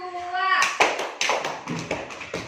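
A group of children in a classroom claps in counted patterns, sharp bursts of hand claps in quick clusters following an adult's spoken instruction, with voices audible between them.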